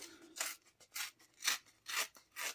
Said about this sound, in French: Et on vient déchirer les bords.